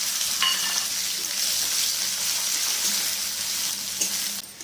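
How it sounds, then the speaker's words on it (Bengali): Chopped onion fries in oil in a pot with a steady, fairly soft sizzle, broken by a couple of faint clinks and stirring sounds, with no talking. "পেঁয়াজটা লাল করে ভেজে নিলাম"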